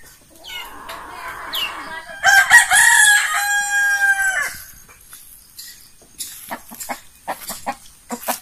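Gamefowl roosters, including a naked-neck type, crow loudly and close at a rural Philippine home in the morning, one long crow followed by a burst of short clucks and calls.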